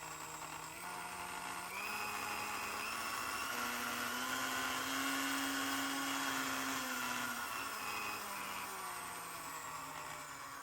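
A restored vintage Sunbeam Mixmaster stand mixer motor hums close by, its whine rising in pitch as the dial moves from slow to fast and then falling back again, steady and alone.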